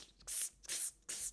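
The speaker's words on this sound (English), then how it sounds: "I had to spray a little Lysol at him." Lysol aerosol spray hissing in three quick bursts, each a sharp, bright, close spray lasting under half a second with brief quiet gaps between, no talking.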